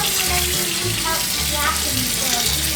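Water runs steadily in a kitchen sink while fresh green beans are rinsed under it, a continuous close splashing hiss with no talk.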